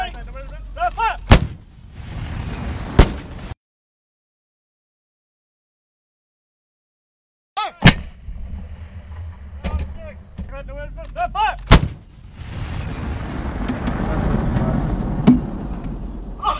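82nd Airborne howitzer crew on a fire mission, with several sharp, loud cannon blasts spaced apart, a stretch of silence, then more shots, amid crew voices and rumbling.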